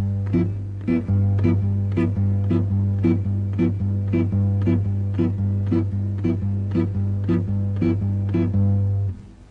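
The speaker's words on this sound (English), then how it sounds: "There all the chords are coming on the off beat." Guitar chords strike crisply on the off beats, about sixteen even stabs over a held low bass note, played alone and close.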